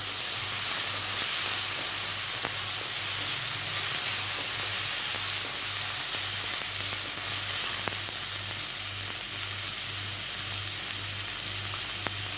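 Tomatoes sizzle steadily in a hot pan for egg masala, a continuous close frying hiss with soft crackles and a faint pulsing hum underneath, no voices.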